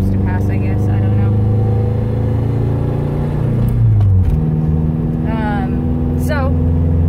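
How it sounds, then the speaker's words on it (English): Cars pass by on a road, a steady loud engine rumble with a shift in pitch near the middle as a vehicle goes past, while a voice makes brief sounds later on. "Can't talk while I'm waiting for cars to pass"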